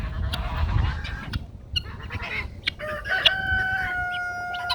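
Geese and chickens squabbling over a farmyard mud puddle, loud honks and squawks breaking out in bursts over low rustling and scuffling, close to the listener.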